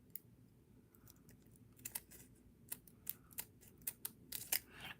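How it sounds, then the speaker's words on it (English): Scissors snip through craft pieces, a series of crisp, close cuts that come faster toward the end, over a quiet background. "So all I did was just cut them like this"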